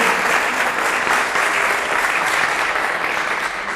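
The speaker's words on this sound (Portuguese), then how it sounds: "uma salva de palmas ao filho do professor Stemer" Loud, sustained applause from a university audience welcoming a guest to the stage at a gathering of rectors, a thick wash of many hands clapping without a break.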